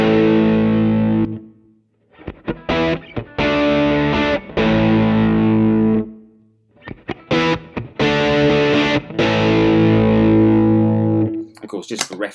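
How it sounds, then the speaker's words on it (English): An electric guitar with a humbucker in the bridge position runs through an overdrive pedal, producing loud, sustained distorted chords in three phrases separated by brief choppy strums and short silences. "And then let's just go onto the bridge pickup and see how that sounds."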